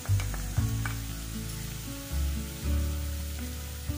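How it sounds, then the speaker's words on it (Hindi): Capsicum, vegetables and peas frying in a pan for masala noodles, a steady hiss of sizzling with a few clanks and stirring shifts, close and moderately loud, with no talking. "लगभग एक मिनट के लिए भून लेंगे सब्जियों को।"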